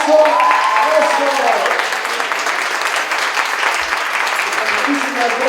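An audience at the opening of a Brain Week conference at CCH Naucalpan gives a strong, sustained round of applause. The clapping fills the room under ringing tonal sounds.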